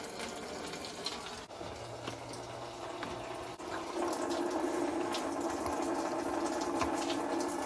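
Antifreeze draining from the radiator of a Ford 351C/400/351M engine, a steady close liquid rush that thickens and grows louder partway through, with faint mechanical ticks and no talking.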